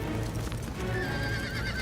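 Cartoon horses whinny loudly over a steady patter of hooves while a camp fire alarm sets off panic, a close, busy mix of neighing and clip-clop.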